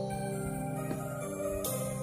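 A Thai pop song plays from an iPad's built-in speakers, a steady sung melody over music filling the short stretch at moderate, slightly thin volume with no talk.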